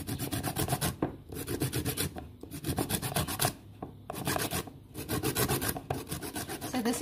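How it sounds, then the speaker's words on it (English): Lemon zest is grated for a cake in a fast run of rhythmic rasping strokes, close and clear, pausing briefly a few times before resuming, with no voices. "Adding a bit of lemon zest to it."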